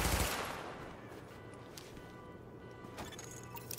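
A short burst of primary-weapon fire opens in the game The Division, then fades into a low rumbling tail with a faint mechanical clatter later on.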